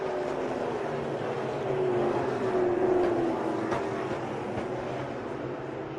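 NASCAR Pinty's Series stock cars race at Edmonton International Raceway, engines roaring at a distance and swelling as cars pass, a moderately faint, continuous drone with a pitch sweep from a passing car.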